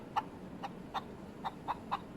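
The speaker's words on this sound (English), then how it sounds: "This is a chicken." A chicken clucks six times at an even pace, each cluck short and fairly faint, against a quiet background.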